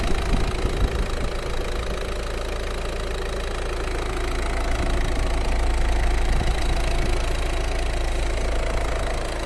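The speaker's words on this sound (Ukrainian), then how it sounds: "Двигун працює рівненько." The 1.6 HDi diesel engine of a 2014 Peugeot 308 idles steadily and evenly up close, a continuous low diesel rumble with a faint mechanical knock and no voices.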